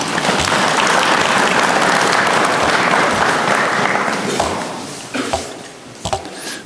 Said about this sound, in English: please give a round of applause for Mark.